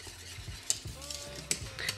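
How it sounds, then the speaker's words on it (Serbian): Chocolate filling thickening in a pot over medium heat while being stirred, with a spoon scraping and clinking against the pot a few times over a soft bubbling sizzle, close up and fairly quiet. "Fil se kuva na srednjoj vatri uz stalno mešanje"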